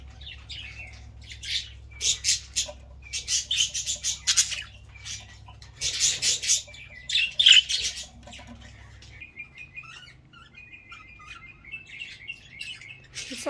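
Budgerigars squawk and chirp in repeated bursts, loud and close, with sharper calls clustered early and thinner twittering trailing off near the end; no one speaks.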